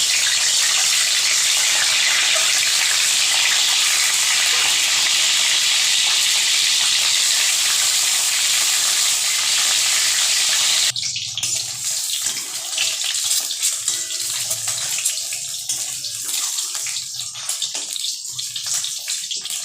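Eggs coated with turmeric and salt fry in hot oil in a wok. A loud, steady sizzling hiss continues for a long stretch, then eases into a quieter, crackling spit.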